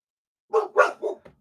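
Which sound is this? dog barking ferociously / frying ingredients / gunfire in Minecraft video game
dog barking ferociously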